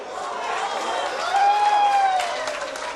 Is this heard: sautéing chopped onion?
no